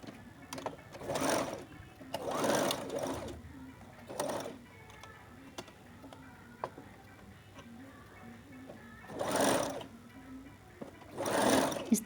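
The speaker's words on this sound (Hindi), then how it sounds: "हमें थोड़ी थोड़ी सिलाई करके इसे मशीन को रोकते जाना है" Sewing machine stitching a round collar in short stop-start bursts, each a rapid whirring run of needle strokes with quiet pauses between, close and fairly soft.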